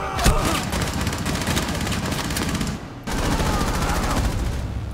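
Rapid automatic gunfire in Rainbow Six Siege, a sustained dense burst of shots that briefly cuts out, then resumes just as loud.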